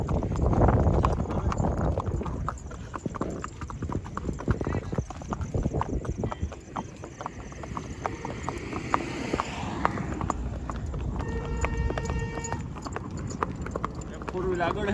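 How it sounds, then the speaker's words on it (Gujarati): A horse and a mare are ridden along a road, their hooves clip-clopping in a steady, fairly close rhythm while people talk over the sound. "2 ઘોડીઓ વાહે છે, ઘોડો ને ઘોડી"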